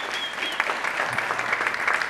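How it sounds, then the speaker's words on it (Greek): Studio audience at a Greek late-night talk show applauds schoolchildren, a brief, dense burst of many hands clapping at steady volume, with faint voices mixed in beneath. "Θέλω ένα χειροκρότημα για τα μωρά του σχολείου."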